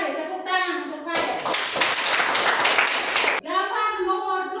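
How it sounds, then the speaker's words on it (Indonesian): A classroom of pupils claps for a classmate, a dense burst of applause lasting about two seconds, framed by a teacher's voice speaking before and after. "Mari tepuk tangan untuk Pade."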